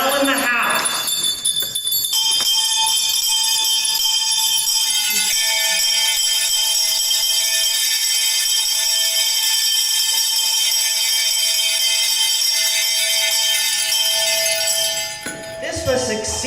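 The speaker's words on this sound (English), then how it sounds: "Soon it rang out loudly. So did every bell in the house." Many house bells ringing loudly together, a dense sustained jangle of overlapping metallic tones that holds steady for about fifteen seconds before cutting off.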